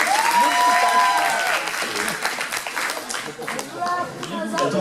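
A crowd at a cosplay costume parade in Dijon claps steadily for a helper on stage, with lively voices and chatter mixed in throughout.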